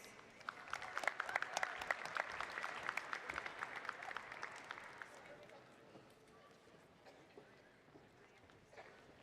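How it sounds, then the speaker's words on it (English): Graduation ceremony applause for Master of Science in Information Technology graduates, a dense crowd clapping that is loud for about five seconds, then thins and fades toward the end. "Please join me in a round of applause for our Master of Science and Information Technology graduates."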